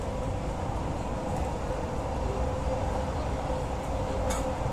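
Steady low rumble of an LRT train rolling toward Dukuh Atas station, a continuous even drone with faint squeals near the end as it nears the station.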